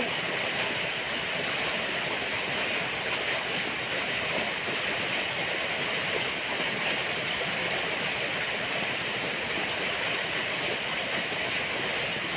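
Rain falls outdoors where snails are crawling, a continuous, even hiss of steady rainfall with no pauses, fairly close and uniform from start to end.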